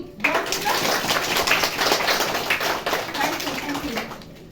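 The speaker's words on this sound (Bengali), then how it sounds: "ওই জন্য একটু হাততালি" Applause at a children's drawing competition held in an apartment building, greeting a child's recited poem: a dense, steady patter of many hands clapping for several seconds, with some voices mixed in underneath.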